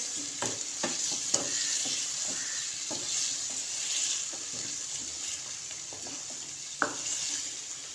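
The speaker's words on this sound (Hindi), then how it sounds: "इसको हमने अच्छे से मिक्स कर लेना। साथ साथ हमारे टमाटर का पानी भी खुश्क होता रहेगा और हमारे मसाले भी साथ भून जाएंगे।" Spices and tomatoes frying in a pan for achar gosht, with a steady sizzle under repeated scraping stirs of a spoon and occasional louder knocks against the pan.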